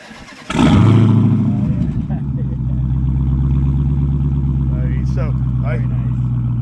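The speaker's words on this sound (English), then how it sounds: "I modded all of my exhausts." A modified car exhaust at a Mopar car show fires up and revs with a sudden loud roar, then settles into a throbbing, lumpy idle that stays loud and close. Brief voices are heard in the background.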